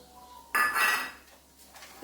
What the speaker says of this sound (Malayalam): ഈ വറുത്ത് വെച്ചിരിക്കുന്ന ചെമ്മീൻ നമുക്ക് ഇതിലേക്ക് ഇട്ട് കൊടുക്കാം